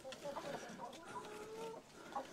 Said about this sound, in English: this old rooster getting a little cocky here on me.